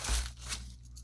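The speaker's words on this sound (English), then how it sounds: "I kind of like to reuse this bubble wrap, but it's not going to happen. So let's just rip it open." Bubble wrap packaging torn open by hand at close range, a short crinkling rip with a quick crunchy burst lasting about a second.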